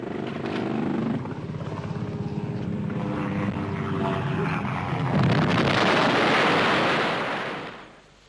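Aircraft fly in for an airstrike on a suspected guerrilla position near huts during the 1977 Rhodesian Bush War, a loud continuous roar with wind buffeting that swells toward the end and then fades.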